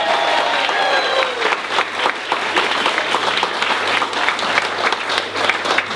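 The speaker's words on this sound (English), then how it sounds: "Let's give everybody a round of applause." Crowd applause at a Rose of Tralee selection night, sustained dense clapping with a few cheers or whistles early on, loud and continuous.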